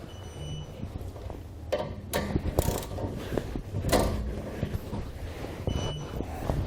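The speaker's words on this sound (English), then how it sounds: "we can go back and tighten them down with a 19mm socket" A ratchet with a 19mm socket tightens the bolts on a B and W Companion 5th wheel trailer hitch. Rapid clicking pawl bursts come in a few close spurts over a noisy mechanical background.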